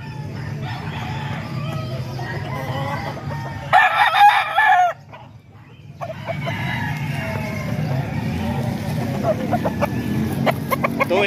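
Roosters crow and chickens cluck among a flock of birds offered for sale at a poultry stall in Calumpit, with a loud burst of crowing midway, a brief lull, then more calls over background murmur.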